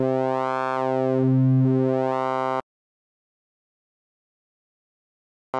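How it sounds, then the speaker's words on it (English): Phase distortion synth oscillator sounds a sustained, bright buzzing tone, a sine wave squeezed as its formant is swept so the timbre bends up and down. It plays loud and alone for about two and a half seconds, then stops, with a short blip at the end. "when you start moving the formant, you get this squeezed sine wave"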